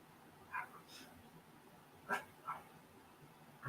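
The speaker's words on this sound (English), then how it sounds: "Lots of dogs barking in the neighborhood." A few short dog barks ring out from some distance in a neighborhood, sparse and irregular, against faint background noise.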